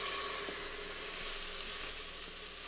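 Broth poured into a hot Instant Pot to deglaze after caramelized onions, a steady loud broadband sizzle and hiss that holds evenly throughout with no talking.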